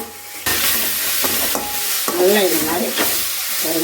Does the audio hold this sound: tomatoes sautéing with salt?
yes